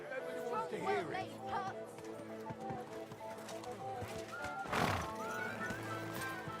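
Horse in Kingdom Come: Deliverance II whinnies loudly several times alongside clip-clopping hooves, with game music and a loud burst near the end, and voices speaking over it.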